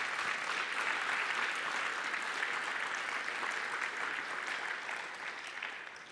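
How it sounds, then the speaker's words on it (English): Audience applause for a panel of speakers at a Welsh technology conference, a dense, sustained clapping that carries for several seconds before tapering off, with no talk over it. "So a round of applause for the panelists."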